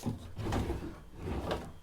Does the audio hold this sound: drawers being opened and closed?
yes